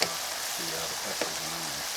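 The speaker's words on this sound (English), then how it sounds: "add to that a little bit of garlic and onion, just to flavor" Garlic and onion frying in a pan with peppers, a steady close sizzle with faint stirring scrapes, with no talk heard.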